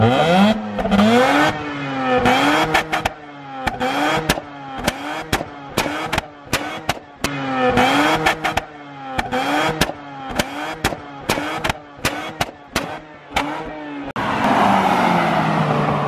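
A twin-rotor rotary engine car being revved in short repeated bursts, each rise and fall of the engine note loud and close, running a little rough, ending in a longer sustained rev.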